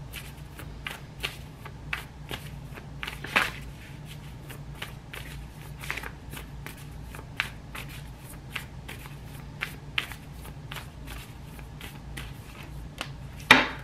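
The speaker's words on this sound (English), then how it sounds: "Let's pull some oracle cards for you." Oracle cards being shuffled and pulled from a deck by hand, a run of soft, irregular papery flicks and slides close by, with a couple of sharper snaps along the way and no talking.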